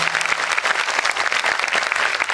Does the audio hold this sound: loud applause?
yes